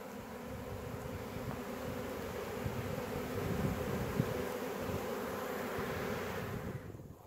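A caught swarm of honey bees hums as a continuous, moderately faint buzz that swells slightly midway, with no voices.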